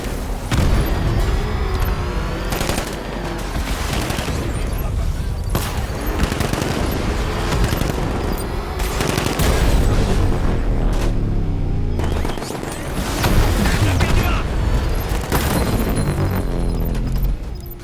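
Sustained gunfire and explosions from the Batman Arkham Knight video game, with dense bursts, booms and a steady loud roar throughout, barely easing near the middle before resuming.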